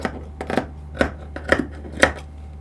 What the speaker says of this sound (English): Then I will just cut it out from here.